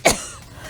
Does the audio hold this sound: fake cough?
yes